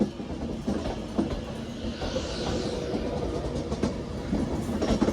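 Train arriving from London Euston at Manchester Piccadilly, rolling in with steady wheel clatter and rhythmic clickety-clack over rail joints, fairly close and continuous.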